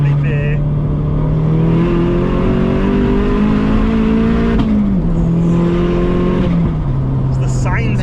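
A modified 552bhp Vauxhall Astra VXR accelerating hard on low boost, the engine note climbing loudly through the revs with a shift partway, heard from inside the car over occasional voices.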